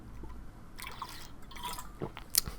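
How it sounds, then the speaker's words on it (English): Water poured into a glass or cup during a podcast, giving a short run of faint drips and trickles close by, ending in a brighter splash, with no talking over it. "Just get a little bit more water here."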